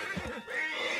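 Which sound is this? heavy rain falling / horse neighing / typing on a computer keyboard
horse neighing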